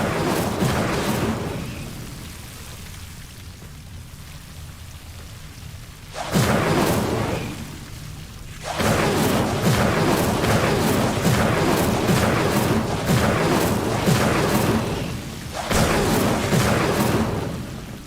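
Incendio fire spell cast in Hogwarts Legacy, heard as repeated loud roaring, crackling blasts of flame; several bursts of a few seconds each, with one long sustained stretch, separated by a quieter low rumble and no talking.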